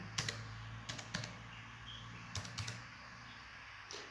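Short bursts of quiet clicking keystrokes on a laptop keyboard, a few quick taps separated by pauses in a quiet room.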